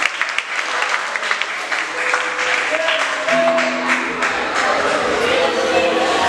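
An audience at a French-language quiz contest applauds steadily and fairly loudly, with a brief tonal voice or cheer rising partway through the clapping.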